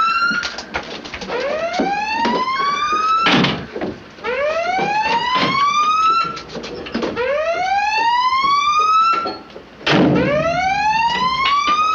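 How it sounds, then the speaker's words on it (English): Submarine collision alarm blaring loudly in repeated rising electronic whoops, each sweep climbing in pitch and restarting after short gaps, with no speech. "Sound collision alarm."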